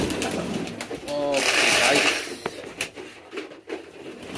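Pigeons cooing close by at a crowded pigeon market in Chattogram, a few rolling coos under market clatter and background voices.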